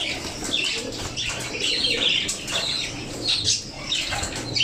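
Pigeons and lovebirds flap their wings in free flight close by during a training session, bursts of wingbeats continuing with soft coos and chirps mixed in.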